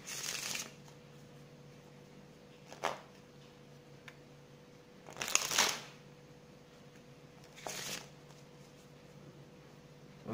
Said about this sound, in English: A few riffle shuffles.